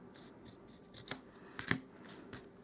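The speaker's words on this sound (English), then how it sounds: "But I will give it a tiny little trim just down the bottom here." Scissors trim a cardstock label in a few quick, soft, close snips, with faint rustling of paper between cuts.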